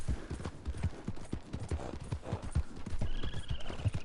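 Horse hooves clip-clop in a steady walking rhythm through a video game, close and fairly loud, with a soft bird-like whistle drifting in near the end and no talking.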